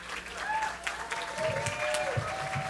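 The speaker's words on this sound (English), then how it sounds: "Please give these lovely individuals a round of applause." Audience applause at a chamber of commerce awards gala, a steady wash of clapping from the room, with some voices and murmuring mixed in.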